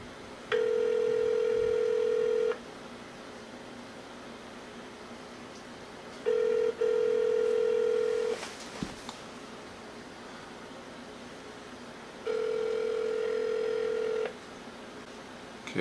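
A telephone ringback tone from a call to a hatchery repeats three times, each long steady buzz separated by quiet pauses, with faint background hiss.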